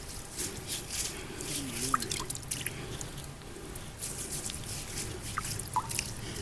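Water is poured onto fake urea granules, giving faint drips and small trickling splashes in an uneven rhythm, close by and quiet, with a voice murmuring in the background.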